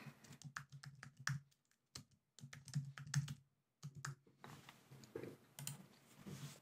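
Computer keyboard typing a preset name in quick bursts of close, crisp key clicks separated by short pauses, quiet and alone.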